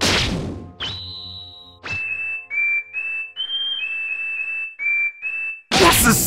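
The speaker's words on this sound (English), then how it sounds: "the frequency of a whistle is as unbearable as a million nails scratching on a chalkboard" A shrill, piercing whistle sounds in a series of sustained tones that shift slightly in pitch, preceded by a noisy burst and ending with another loud rush of noise.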